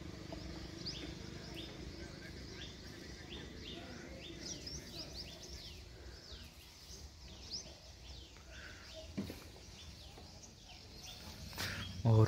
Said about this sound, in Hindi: यहाँ पर आप चिड़ियों की आवाज़ सुन सकते हैं,